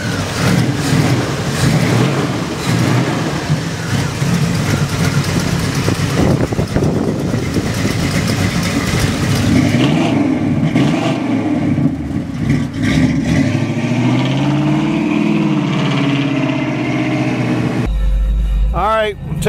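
An orange 1967 Chevy Camaro RS convertible idles loud and close, then its engine revs up and falls back midway, with a person talking over it.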